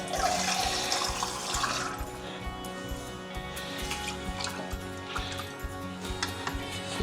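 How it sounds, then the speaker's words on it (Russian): Water splashes and pours steadily into a pot of coconut-milk soup with sausage being cooked at home, a continuous close running-liquid sound lasting several seconds. "Сейчас еще чуть-чуть воды добавим."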